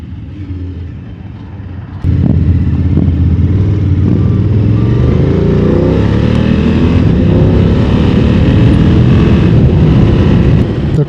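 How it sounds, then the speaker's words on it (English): A BMW F900 GS Adventure motorcycle with a 270-degree crank engine, heard while riding: a low idle-like rumble that jumps in loudness, then a smooth, steadily rising engine note under wind noise. "this has the least amount of horsepower and torque out of any BMW I've ridden, but this engine is actually very nice"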